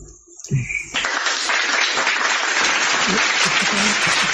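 Sustained audience applause fills the room at an interfaith discussion event, starting after a brief quiet moment and holding steady and loud throughout.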